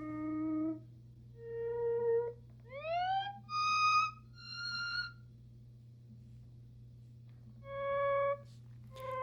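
Clean guitar swells from a pedalboard with the Volante delay and stereo wet reverb switched off, heard as a series of separate, dry, fading-in notes, some bending upward, with short gaps between them and no voices.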